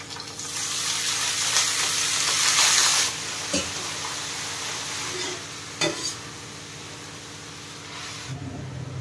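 Spinach tossed into a pan of frying onions on a gas stove, giving a steady, close sizzle and hiss that surges loudest early on, with a few sharp clinks of stirring and a quieter crackle near the end.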